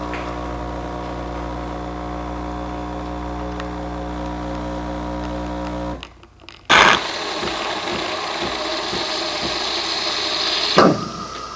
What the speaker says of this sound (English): Next, we're gonna prepare a cortado, which is like a small cappuccino.